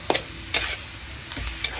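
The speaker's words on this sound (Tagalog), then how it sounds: "Pagka-prito natin konti yung ating atay" Low sizzling of liver frying in a pan, broken by a few sharp scrapes and clinks as it is stirred, close by with no talking.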